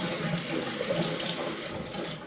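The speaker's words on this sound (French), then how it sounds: "J'aime rincer mon blaireau à l'eau chaude et ensuite à l'eau froide." Running tap water splashes over a shaving brush being rinsed at a sink, a steady close hiss of flowing water with small splatters throughout, no voices.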